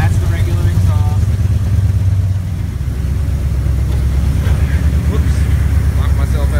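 A 1986 Chevrolet El Camino engine runs through its regular exhaust, giving a steady low, throbbing idle rumble that stays close and continuous throughout.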